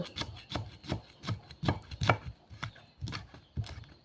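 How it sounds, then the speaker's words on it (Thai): Kaffir lime leaves are sliced on a board for a Thai steamed pork head salad, with a knife tapping in an even rhythm of close, crisp chops, about two to three per second. "ซอยผักไว้ก่อนเนาะอันนี้เป็นใบมะกรูดเด้อ"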